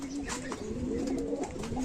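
Pigeons cooing on a rooftop where they are raised, a steady low warbling coo running throughout, fairly close, with faint chirps and soft background noise.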